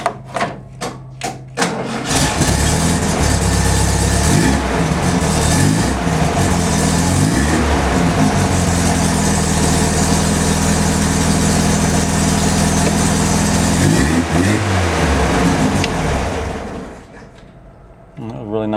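A dune buggy engine cold-starts after a few short cranking bursts, then settles into a loud, steady idle with a varying throttle blip near the end before shutting down.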